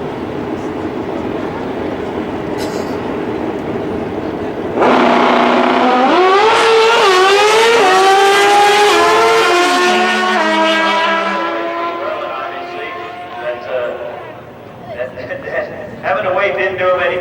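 Pro Stock drag race cars launching down the strip at Houston Raceway Park, a loud sustained engine roar that climbs through rising gear pitches before fading away, heard under an announcer's commentary.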